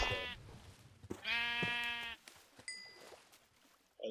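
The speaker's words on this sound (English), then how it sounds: "At least shear the poor sheep." A sheep bleats twice in a video game, with loud, close, wavering cries followed by a light ding and soft clicks.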